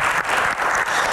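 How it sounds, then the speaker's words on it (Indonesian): Brief burst of audience applause for a panelist at a live Q&A comedy show, dense steady clapping from a studio crowd filling the whole moment. "Tepuk tangan yang paling meriah dong buat"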